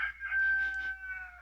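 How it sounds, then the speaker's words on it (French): A rooster crows in a garden, one drawn-out call of about a second, close and clear, with no voices over it. "j'ai la conscience du coq qui est dans le jardin"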